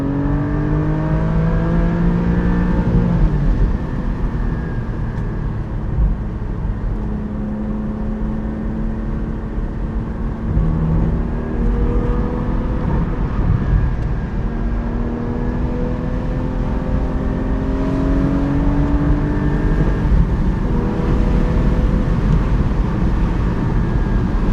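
Porsche 718 Spyder engine pulling hard through a corner, its loud steady drone climbing and sliding in pitch as revs rise and fall, close and continuous with no talking.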